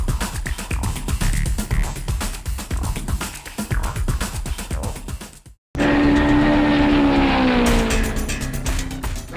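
Mario Andretti's Brawner Hawk race car roars loudly past on the track, a dense close engine blare, then after a brief cut a high, wavering engine whine carries on alone.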